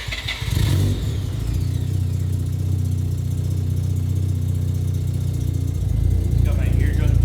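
A small turbocharged engine idles steadily and close by, a low rumbling drone that barely changes, with brief noisy bursts at the start and end.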